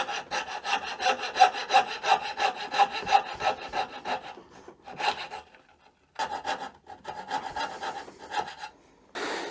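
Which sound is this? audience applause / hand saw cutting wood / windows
hand saw cutting wood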